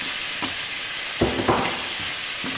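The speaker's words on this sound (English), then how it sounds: "I'm gonna brown the ham now" Diced ham browns in a hot frying pan with a steady, bright sizzle. Several short scraping stirs from a utensil sound against the pan, and the frying is close and fairly loud with no talk.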